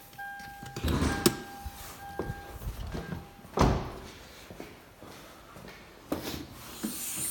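Hood of a Lexus GX470 being opened with a 4.7-liter V8 underneath. Quiet clicks of the latch and release are followed by a heavier thunk as the hood lifts, then soft rustling and handling noises.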